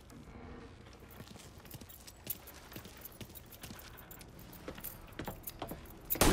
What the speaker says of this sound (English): You got the keys so you can drive.